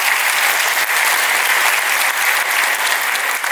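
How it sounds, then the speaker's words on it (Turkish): An audience at a Turkic states entrepreneurship summit delivers loud, sustained applause for Ahmet Arif and his team, a close, continuous wash of clapping with no speech. "ben sizlerden bir kocaman bir alkış rica ediyorum Ahmet Arif ve ekibine"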